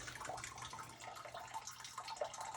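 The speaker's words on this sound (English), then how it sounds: "Water heater's still draining." Water steadily draining from a camp water heater during winterizing, a continuous hissing, splashing flow that stays even and fairly close throughout.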